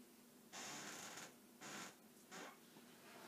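A dog scratches at the glass of a living-room French window: three separate bursts of rasping scratching, the first longest, faint and set against a quiet room hiss.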